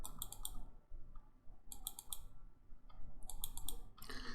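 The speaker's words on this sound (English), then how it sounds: "Clicking through each of them" Computer mouse clicks through commands in Minitab 19 statistical software, arriving in quick bursts of sharp, close clicks with brief pauses between groups, heard alone without talk.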